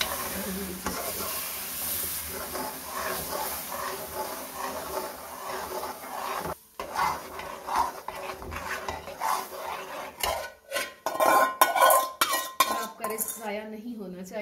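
Besan halwa mixture stirred and cooked in a pan over high flame, with continuous scraping, sizzling and spoon-against-pan clatter, busier in the second half.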